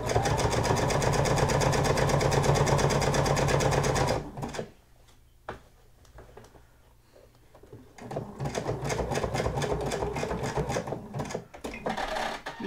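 A sewing machine stitches the side seam of a sequin hoodie in a fast, steady run that stops abruptly, leaving a quieter pause with light handling noises before stitching resumes loud and close.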